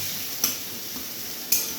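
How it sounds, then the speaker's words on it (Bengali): Soft sizzling of tomato frying in a pan, with two brief scrapes of a spatula stirring it, no voices. "টমেটোটা আমাদের ভাজা ভাজা হয়ে যাচ্ছে"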